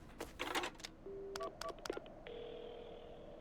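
Dialing a telephone booth phone in the video game Paranormasight 3: a burst of clicks and clatter, then several short keypad beeps and tones, ending in a steady ringing tone.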